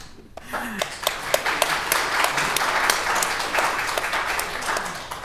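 Applause and scattered clapping fill a parliament chamber during a petition debate on conserving bushland on the Northern Beaches, a steady wash of many hands with sharper individual claps standing out.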